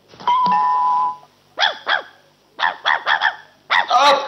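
A dog barks close and loud in quick bursts of two and three sharp barks, after a steady electronic ringing tone opens the sequence; no one speaks.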